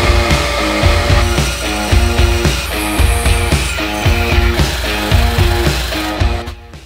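Rhythmic sawing through a wooden hammer handle, a steady back-and-forth rasp of repeated strokes that stops near the end.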